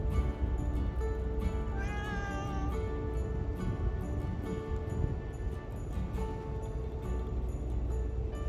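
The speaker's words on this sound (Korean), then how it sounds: "또다시 만난 오이고양이" A cat meows repeatedly outdoors beside a busy street at night, its short rising cries standing out against steady traffic and city background noise, with no one talking.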